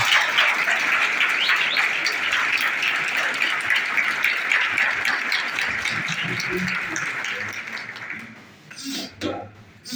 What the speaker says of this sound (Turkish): Başkanımız Sayın Eyüp Gözgeç Bey'i büyük alkışlarla Türkiye'de alkışlıyoruz.